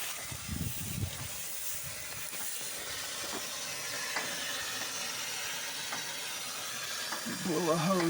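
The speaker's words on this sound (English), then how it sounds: "Blew a hose back in there." A tractor's blown oil cooler hose lets out a steady, loud hiss of escaping fluid that runs without a break, with a brief voice near the start and another toward the end.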